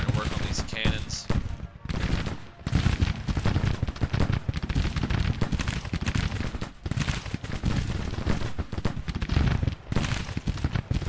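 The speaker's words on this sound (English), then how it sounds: "Looks like we're starting to work on these cannons." Cannon and artillery fire in the Civil War strategy game Grand Tactician, a dense barrage of booming shots and crackling gunfire in irregular bursts, loud throughout with a voice talking over it.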